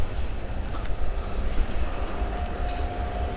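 A train rolls along a railroad near a highway bridge in St. Louis Park, Minnesota, giving a steady low rumble and rush from a moderate distance, with a faint squeal late on and no talk.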